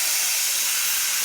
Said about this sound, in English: we'll let that steam and that pressure release